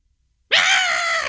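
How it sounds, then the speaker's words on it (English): A car brake screech looped in place of a scream in the film Blood Freak, bursting in loud and harsh after half a second of silence and holding steady to the end. "a repeat loop of what sounds like a car stomping it on its brakes and sliding into place"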